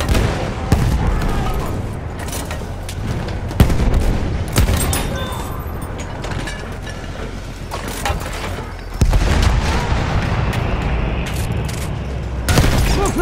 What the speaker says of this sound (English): There! Enemy machine gun!